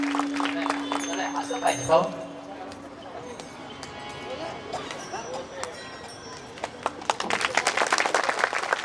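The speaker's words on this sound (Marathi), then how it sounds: "टाळी वाजवा." An audience claps hands at a devotional kirtan during a harinam sankirtan gathering. Talk and scattered sounds come first, then a burst of many quick, loud claps near the end.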